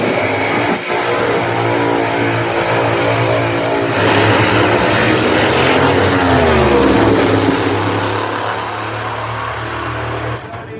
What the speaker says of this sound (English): you're going to hear Sandro go off the RPM like you heard Silvio do